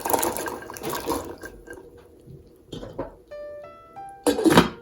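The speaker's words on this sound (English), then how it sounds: "Bring some water to a boil and cook your beans for 5 minutes." Water is handled in a kitchen pot while being brought to a boil for cooking beans. Loud splashing and bubbling sounds rise and fall, then come a few thin electronic beeps and a final burst of sloshing.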